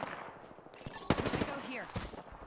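Rapid bursts of automatic gunfire in a first-person shooter video game, loud and close, with sharp repeated cracks and game effects layered over each other.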